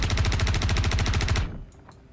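A suppressed automatic gun fires in Star Citizen: a dense, steady burst of rapid, evenly spaced shots, close and loud, cutting off abruptly into quiet room tone.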